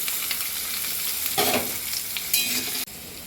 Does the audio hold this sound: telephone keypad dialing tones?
no